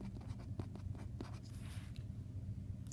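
Hand writing of an equation, likely chalk or marker on a classroom board during a math lesson, heard as a steady run of soft scratchy strokes with no talk.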